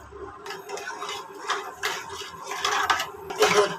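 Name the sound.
stirring milk in a pot with a spoon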